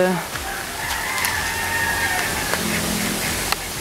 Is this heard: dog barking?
no